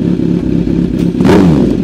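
A Benelli 302R motorcycle fitted with a loud aftermarket exhaust idles with a throaty, close rumble before a sharp, loud rev bursts out near the end.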